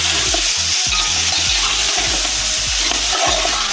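Meat frying and being stirred in a pan for Afghani pulao, seasoned with cumin powder and salt: a steady loud sizzle with repeated spoon scrapes in a regular rhythm, close up and without voices.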